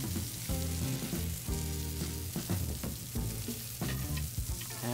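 Burgers sizzle on a Weber Q griddle and grill, giving a steady close frying crackle with stirring or scraping noises and faint musical tones underneath, and no talking.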